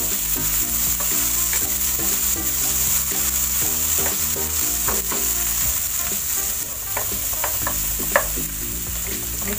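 Tomatoes sautéing in a pan with onions and galunggong fish, a continuous close sizzle broken by clinks and scrapes of stirring, no voices.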